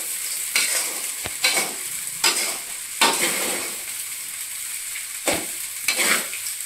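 White rice with sweetcorn is stirred and tossed in a hot pan, with loud close scraping strokes in irregular bursts over a constant frying sizzle.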